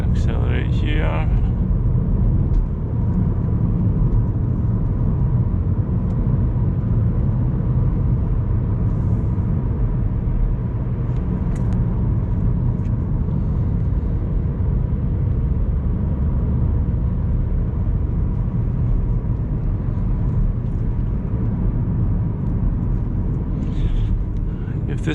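A 2013 Vauxhall Astra 1.4 SRI engine pulls under acceleration on a country road, a steady loud low drone and rumble heard from inside the cabin for the whole stretch, with brief voice near the start.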